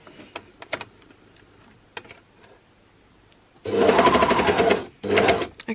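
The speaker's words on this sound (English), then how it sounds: "I'm going to start sewing just before one of the side seams" A sewing machine stitches a 5/8-inch side seam on a McCall's 8145 top, running in two loud, fast bursts of needle chatter after a stretch of faint scattered clicks and handling noises.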